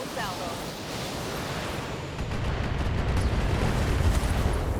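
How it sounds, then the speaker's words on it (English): Heavy mech weapons in BattleTech fire a full salvo, a loud continuous roar of blasts and rumbling explosions that swells and grows denser toward the end. "Firing a full salvo."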